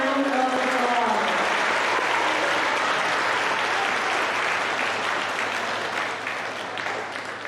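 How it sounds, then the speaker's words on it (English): Sustained applause from a school audience at a middle school awards ceremony, a dense steady roar of clapping filling the hall and slowly tapering off toward the end. "Please give them all a round of applause."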